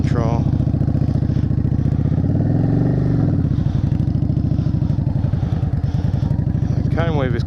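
Motorcycle pulling away from the start and riding slow practice manoeuvres through cones for a motorcycle skills test, a loud steady engine drone with shifting pitch, heavy rumbling wind noise, and a rider talking over it.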